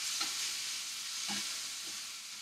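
Apples and pancetta sizzling in a pan, a constant close hiss of frying with a few soft stirring scrapes, no voices.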